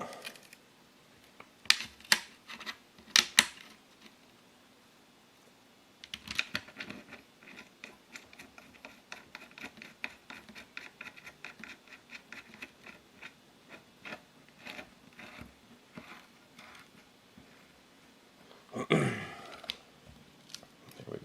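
Bolts on a Ford LTD transmission being started and snugged down by hand, heard as irregular metallic clicks and ratchet-like ticks in short bursts, with quieter patches and a louder clatter near the end.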